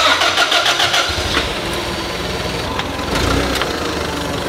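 A forklift engine runs steadily at close range while a motor is lowered during installation, its low rumble rising again near the end, with no talk.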